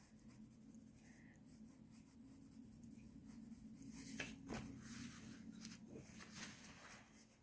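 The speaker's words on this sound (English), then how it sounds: "This is a 4B pencil." A 4B pencil shading on paper, giving a soft, steady scratchy rasp in close, quiet strokes that grow a little denser and louder toward the end, with no talking.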